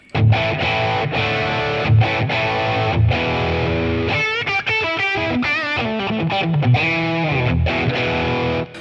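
Electric guitar through a Boss Katana amp's internal warm overdrive, playing chords and quick single-note runs, with a warm, gritty, moderately distorted tone, loud and continuous.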